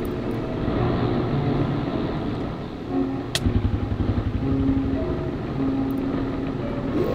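A dirt bike engine from a Minecraft dirtbike mod hums steadily, then revs into a quick run of throaty pulses after a sharp click, settling back to a droning idle.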